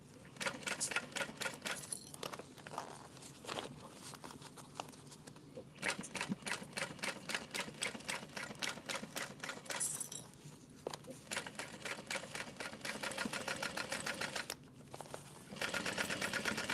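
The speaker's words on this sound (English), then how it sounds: "I'm only clipping one side and stitching that first." Sewing machine stitching fabric for a Rosie sling, one side clipped and sewn first; rapid rhythmic needle bursts run in repeated stretches with brief pauses, close and steady, with no talking.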